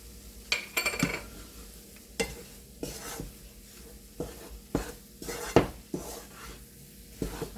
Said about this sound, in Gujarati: આ રીતે મિક્સ કરી દેવાનું છે આપણે